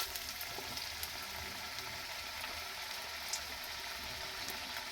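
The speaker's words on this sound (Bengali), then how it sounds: "গ্যাসের ফ্লেমটা হাই টু মিডিয়ামে রেখে কিন্তু পেঁয়াজিগুলো ভেজে নেব।" Onion fritters (peyaji) in batter fry in hot oil in a wok over a high-to-medium gas flame, giving a dense, steady sizzle and crackle with small pops throughout.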